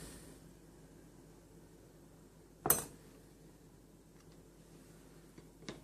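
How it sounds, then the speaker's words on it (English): Metal knife run around a steel egg ring to free a steamed egg: a single sharp metallic clink midway through, with faint scraping ticks against a quiet background hum. "just put your knife in, going around"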